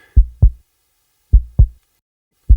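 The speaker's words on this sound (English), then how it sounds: "You can see I bring up the volume of the heartbeat sound," Heavy low double-thump heartbeat in a tense cinematic trailer score, beating alone in slow lub-dub pairs with long gaps between them, loud and close.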